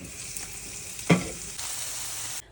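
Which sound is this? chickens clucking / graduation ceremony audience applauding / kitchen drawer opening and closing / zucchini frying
zucchini frying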